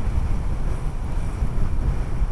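Wind roars and buffets the microphone during a Vario 125 motorcycle ride in Bali between Denpasar and Kintamani, a loud, steady rumble with no clear pauses.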